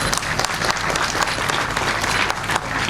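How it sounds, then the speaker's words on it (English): A hall audience at a Bar Council enrolment ceremony applauds a chief guest, steady dense clapping from many hands, loud and sustained throughout without pause. "A big round of applause, please."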